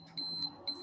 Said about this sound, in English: Oh, that's my alarm going off.